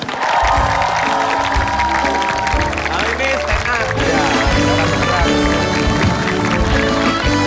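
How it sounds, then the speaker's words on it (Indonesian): A studio audience applauds and cheers a stand-up comedian, David Nurbianto, taking the stage on a comedy show. Loud music plays over the clapping, and a host speaks. "Tepuk tangan buat David Nurbianto."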